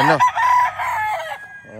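A Boston Roundhead rooster crows loudly and close among many chickens, one full drawn-out crow followed by a short clucking call as the crow trails off.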